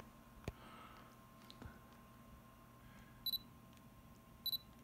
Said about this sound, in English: object in the focus, you can hear the confirmation sound